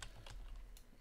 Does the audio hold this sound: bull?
no